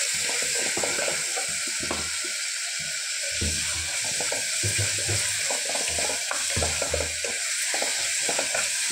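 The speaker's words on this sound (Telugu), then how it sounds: "సాల్ట్, పసుపు అన్నీ బాగా వేగిపోయినాయి" Chopped onions fry with salt and turmeric in a pan, a steady bright sizzle running throughout, close and loud, with occasional stirring scrapes and clinks.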